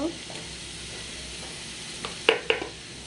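Gura fish frying in a pan and being stirred, with a low steady sizzle throughout and two sharper scraping clatters near the end; no talking.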